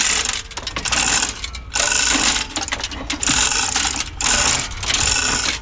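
A car engine being pried out at a junkyard, producing loud metallic clanking, ratcheting and grinding in repeated bursts, close by and continuous throughout.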